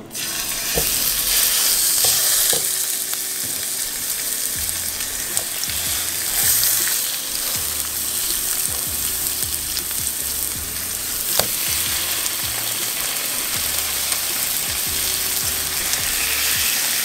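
Seasoned food placed face down sizzling in a hot pan, a loud steady hiss running unbroken throughout, close up, with a few faint clicks and no talking.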